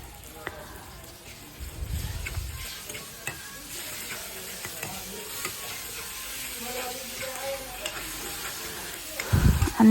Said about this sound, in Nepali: अब चाहिँ हाम्रो लसुन टमाटर हालेँ मैले। टमाटरलाई पनि मैले एड गरिसकेँ।